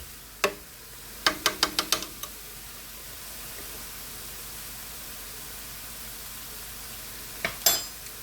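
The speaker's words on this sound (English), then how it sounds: "I'm going to turn it down slightly and just let this simmer away" A pot of base sauce for soup is turned down slightly and left to simmer, giving a soft, steady hiss with scattered ticks and a quick cluster of sharp taps near the start, faint and without speech.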